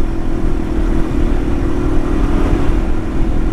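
A Yamaha TW200 motorcycle rolls down a bumpy dirt road in Cross River, New York, its engine a steady, close, low droning hum under continuous wind and road rumble, with no voices.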